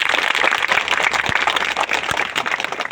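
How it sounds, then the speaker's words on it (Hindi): An audience at a business meeting applauds to welcome new guests, a dense steady patter of many hands clapping together, continuous and fairly close. "एक बार दिल खोल के जोरदार इनके लिए वेलकम के लिए जोरदार तालियां,"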